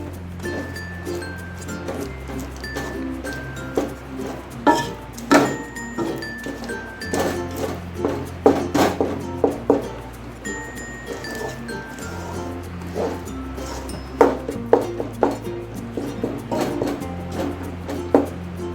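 A spoon scrapes and clinks steadily against a pan while peanut katli mixture is stirred, a run of irregular small taps and scrapes over a low hum.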